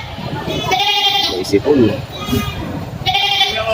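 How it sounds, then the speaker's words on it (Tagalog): Goats bleat repeatedly at the Padre Garcia livestock auction, loud nearby cries rising over crowd murmur while someone talks over them. "May sipon pa yung isang kambing doon."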